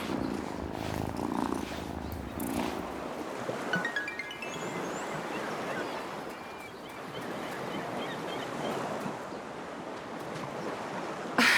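A cat purrs in the farming game Wylde Flowers, a steady soft rumble running throughout over an outdoor ambience of wind and waves, with no talking.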